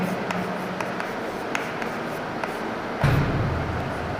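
A geography lecturer writes during a lecture, giving steady scratchy pen or chalk strokes with soft taps, close and continuous in a quiet room with no talk.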